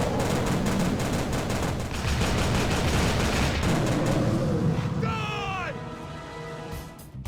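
An alien gun fires in rapid, dense bursts in the 2006 video game Prey, a loud continuous barrage that gives way to warbling, screeching tones near the end.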